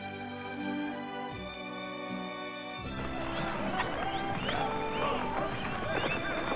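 A horse wearing a breast collar, set in a western range scene, snorts and whinnies while hooves clip-clop at a moderate distance, the sounds growing busier and louder partway through.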